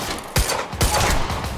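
Burst of gunfire from the video game Quantum Break: two sharp, loud shots ring out close together, then a third, over a dense, noisy combat background with no talk.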